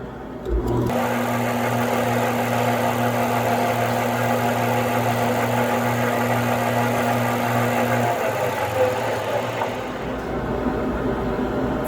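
A knife blade buffed against a Scotch-Brite wheel in a knife factory, steady machine hum with a constant motor drone running continuously before cutting off near the end, no talk.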